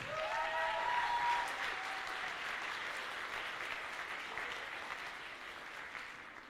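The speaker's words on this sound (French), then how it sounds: "On peut encore l'applaudir." Audience applause at a cosplay contest during the Swiss Fantasy Show 2018, a steady wash of clapping from a crowd that starts full and slowly thins, heard at moderate distance with no talk over it.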